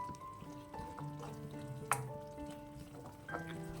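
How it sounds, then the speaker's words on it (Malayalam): Egg curry masala with tomato and spice powder being sautéed in a pan, with faint, quiet sizzling and scattered clinks and scrapes of stirring. "വീണ്ടും ഒന്നുകൂടി ഒന്ന് വഴറ്റിയെടുക്കണം."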